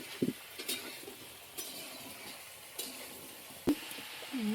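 Crab fries in oil in a wok over a wood-fired clay stove, a faint steady sizzle with a few sharp scraping and clinking stirs, and no talking.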